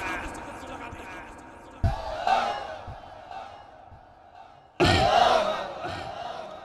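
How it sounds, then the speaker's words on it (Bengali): A rally crowd shouting slogans with raised hands, two loud collective bursts of voices answering a speaker, with quieter talk between them. "দুই হাত উঁচু করে স্লোগান দেন।"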